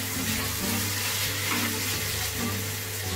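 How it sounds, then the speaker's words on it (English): Beef stroganoff sautés in a pan with a dense, steady sizzle and hiss at close range, constant and unbroken with no talk. "So here we're gonna saute our stroganoff."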